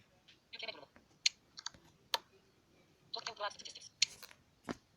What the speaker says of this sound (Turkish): Yükle tuşuna basıyorum.